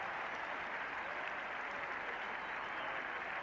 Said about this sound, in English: Muted applause, I think, is possibly the way to phrase it.